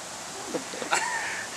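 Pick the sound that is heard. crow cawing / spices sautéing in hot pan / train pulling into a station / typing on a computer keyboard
crow cawing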